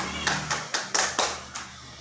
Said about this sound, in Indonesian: Silakan tepuk tangan Anda.